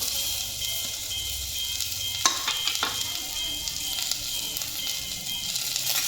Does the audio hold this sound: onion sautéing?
yes